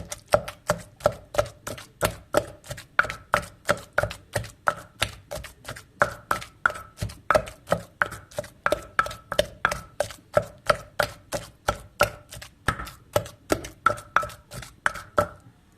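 Wooden pestle pounding fish in a mortar for Isan laab pla, a steady run of sharp rhythmic thuds about two to three per second, close and even, no talk.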